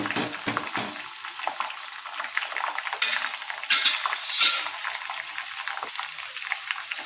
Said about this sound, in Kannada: ನೋಡ್ರಿ, ಸ್ವಲ್ಪ ಫ್ರೈ ಮಾಡ್ತೀನಿ ತಿರುಗಾಡ್ದಿಂದ